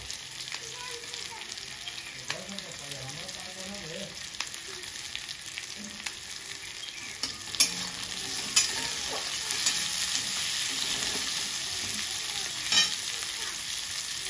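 Green chillies stir-fried in hot oil in a pan, a steady close sizzle with intermittent scraping and clinking of a spatula against the pan.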